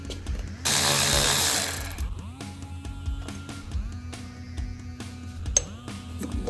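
A ratchet or power tool whirs and clicks in repeated short bursts while an old radio mount is being unbolted inside a Lamborghini Countach, with a loud hissing burst early and metallic ticking throughout, up close.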